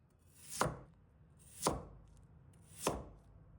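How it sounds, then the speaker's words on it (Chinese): A knife chops peeled Chinese yam on a board with three crisp, evenly spaced cuts about a second apart, close and clear with no talking. "削好皮后，用斜刀把它切成小段"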